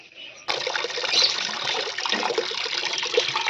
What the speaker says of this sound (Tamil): இதுக்கு வந்து தண்ணி வந்து பைப்பில் வந்து பிடிச்சி போயிட்டுருக்கு